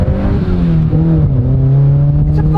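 An old Honda car engine accelerates with a loud, close, rising drone that climbs steadily in pitch with no talk over it.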